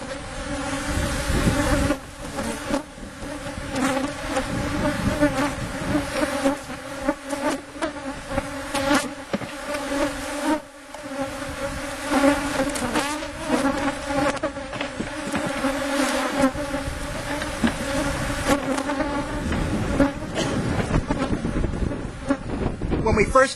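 Dense, continuous buzzing of a great many honeybees swarming around large open hives stacked six boxes high during an apiary inspection, loud and close throughout, with steady wind noise on the microphone.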